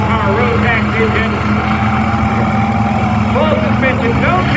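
A light STOL aircraft's 130 horsepower Rotax engine drones steadily and loudly at an airshow, with voices talking over it throughout.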